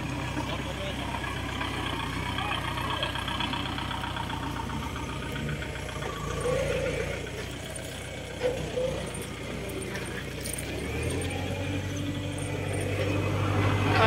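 Farm tractor engine running near a stuck vehicle on a steep rural track, a low steady idle that rises toward the end, with people talking throughout.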